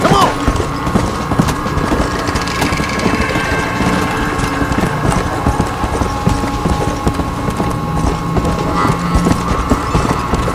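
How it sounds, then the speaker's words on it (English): Steady rhythmic clip-clop of horse hooves runs continuously under dense, loud game noise and a low mechanical hum in Red Dead Redemption: Undead Nightmare. "Why is this horse so slow in this game?"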